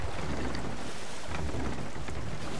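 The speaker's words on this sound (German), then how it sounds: "hoffentlich kommen wir wenigstens noch in Halteposition, bevor das Gewitter hier größere Auswirkungen hat" Steady, dense downpour during a thunderstorm at sea in Sea of Thieves, a continuous hiss of rain and rough water around a sailing ship, with no talking.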